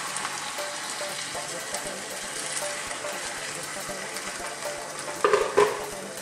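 Chicken stock poured into a pan of sautéing cabbage for Filipino ginisang repolyo gives a steady close sizzle and hiss, with a short louder splash and bubbling burst near the end.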